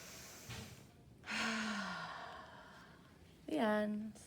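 A deep, audible breath in and a long sighing exhale during a children's yoga storytime, close and soft, with a shorter breathy sound in between and a slight vocal tone at the end.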